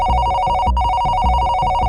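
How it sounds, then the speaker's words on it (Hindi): An electronic telephone ringer trills in a steady repeating pulse, loud and close, with no talk. "पुलिस कंट्रोल रूम में एक फोन आता है"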